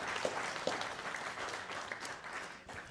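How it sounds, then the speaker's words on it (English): At a guide dog school graduation ceremony, an indoor audience applauds with steady, dense clapping from many hands, moderately distant and continuous throughout. "So a round of applause for the employees of Guide Dogs for the Blind."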